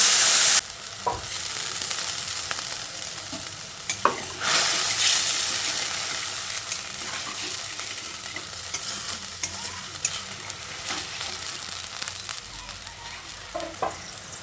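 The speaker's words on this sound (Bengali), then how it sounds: "এবার পরিমাণ মতো জল দিয়ে দিচ্ছি।" Chicken momo filling sizzling and being stirred in a pan as water is poured in, a steady frying hiss with scraping stir strokes throughout, close and moderately loud.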